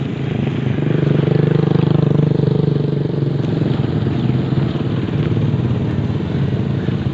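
A motorcycle engine chugs loudly nearby, swelling and then holding a steady rumble as it passes slowly on a muddy mountain dirt road in Montalban, Rizal.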